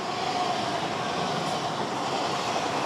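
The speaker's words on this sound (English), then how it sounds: "oh, another train. It's quite a busy line, isn't it? There's trains everywhere. This is going to whistle past us now." A train rolls past on the coastal railway along the Teignmouth sea wall, a steady loud rumble and rush of wheels on rails, close and continuous throughout.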